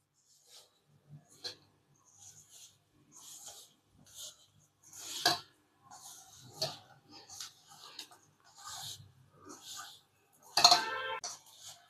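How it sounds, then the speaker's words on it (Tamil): Tapioca cake ingredients are stirred in a bowl, giving scattered soft scraping and clinking strokes, quiet and close, with short pauses between them. "இப்போ எல்லாத்தையும் நல்லா மிக்ஸ் பண்ணிடலாம்"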